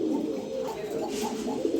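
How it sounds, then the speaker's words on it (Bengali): A pigeon for sale coos close by in a soft, repeated rolling call that runs through the whole moment under faint room noise. "এখানে এক পিস সুইট কবুতর আছে।"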